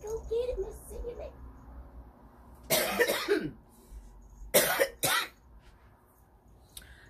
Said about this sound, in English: I am still coughing like a crazy person